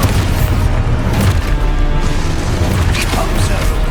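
A loud, booming explosion from the Expulso spell in Hogwarts Legacy on PS5 Pro. The blast and its heavy rumbling crash fill the whole moment, with further impacts layered over it.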